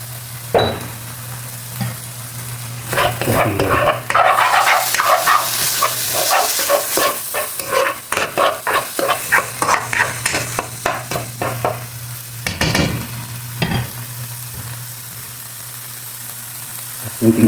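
Shredded tuna with scrambled eggs and dried squid stir-fried in a pan: a steady sizzle under repeated scraping and stirring strokes, loud and close, with a steady low hum running beneath.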